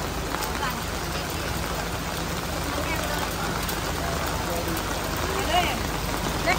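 Heavy rain falls during a storm, a dense, steady hiss and patter that stays constant throughout, with faint voices murmuring underneath.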